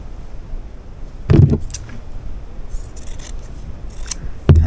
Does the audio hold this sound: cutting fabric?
yes